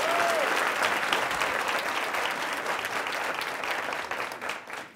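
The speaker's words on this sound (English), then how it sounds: "Let us give them a round of applause." Large audience at a City Club of Cleveland gathering breaks into dense, sustained applause, loud and even throughout before tapering slightly at the end.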